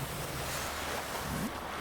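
A fire hose sprays water onto a fire in the game Chernobyl Liquidators Simulator, a loud, steady, broadband rushing gush that runs unbroken and alone.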